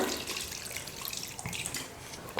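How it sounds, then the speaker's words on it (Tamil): Water is poured into a pot of mutton cooking for biryani, producing a continuous close splashing trickle that ends with a brief slosh, with no voices. "இப்போ தண்ணி கொஞ்சமாக சேர்த்து மட்டனை வேக வச்சுக்கலாம்."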